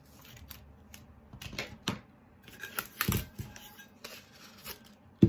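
Scissors cutting a tape template for a pencil tumbler craft, a series of quiet, close snips and crisp clicks spaced irregularly, with a sharper snap at the very end.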